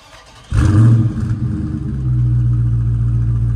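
A Dodge Scat Pack SRT V8 fires up close by with a loud bark and a quick rev, then settles into a deep, steady rumbling idle that swells again and holds.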